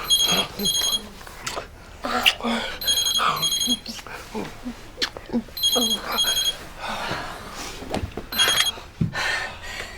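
An old-style telephone bell rings in repeated double bursts, loud and shrill, over a stretch of indoor conversation as people talk throughout.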